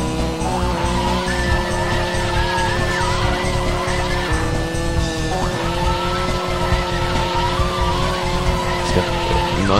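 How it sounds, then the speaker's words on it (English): In Mario Kart 64, kart tires squeal through a long drift and spin-out over a continuous engine drone, with screeching bursts rising and falling for about ten seconds and no talk. "Nice big drift. Oh, I spun out."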